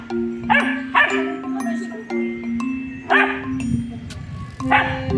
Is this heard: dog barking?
yes